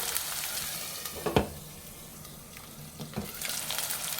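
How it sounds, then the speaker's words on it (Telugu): Ginger garlic paste fries in oil for bagara rice with mutton curry, hissing steadily, with a few distinct scrapes and clinks of a stirring spoon. "ఆయిల్లో మంచి బ్రౌన్ కలర్ వచ్చేంత వరకు వేపుకోవాలి అల్లం వెల్లుల్లి పేస్ట్ని"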